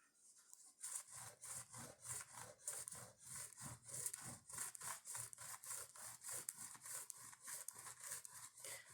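Rhythmic scratchy strokes of a crayon rubbed on its side across paper, close and fairly quiet, repeating back and forth at a steady pace.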